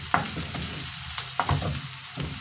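Onion and garlic frying in a pan, a steady crackling sizzle with a few sharp pops and spatula scrapes, close and without speech.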